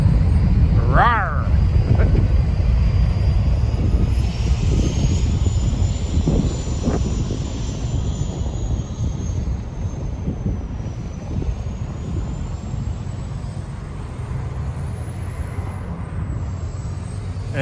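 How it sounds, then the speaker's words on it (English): Airliner jet engines at Toronto Pearson airport, a broad roaring rumble heard from a distance that slowly fades, with a faint whine and someone talking over it. "Can you hear those engines?"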